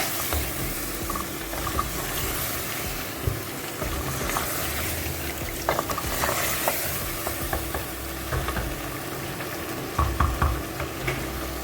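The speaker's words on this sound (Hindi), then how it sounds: "तो यहाँ जी बस मैंने ये आलू चिकन को चढ़ा दिया है।" Aloo chicken curry with onions, yogurt and spices sizzling in a pot as it goes on to cook, a steady crackling hiss with scattered clinks and scrapes of stirring.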